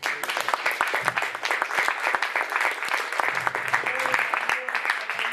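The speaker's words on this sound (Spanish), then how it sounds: "Un aplauso a Jesús." A church congregation applauds throughout, dense steady clapping from many hands filling the room, with a few voices faintly mixed in beneath it.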